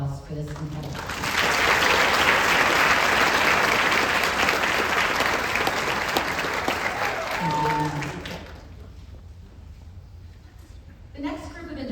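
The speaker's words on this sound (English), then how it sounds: "Please join me in another round of applause for this incredible team." Sustained applause from a graduation audience for a physician assistant program, loud and dense for several seconds before fading out, with a voice speaking briefly near the end.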